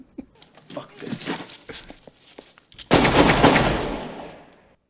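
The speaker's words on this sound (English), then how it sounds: "Now that's shooting." Gunfire from the 1989 film Harlem Nights, scattered shots followed by a loud, sustained burst of rapid firing that slowly fades, with people talking and reacting over it.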